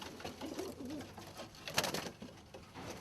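Pigeons in a loft give soft, faint coos in short warbling bursts amid a quiet, rustling background.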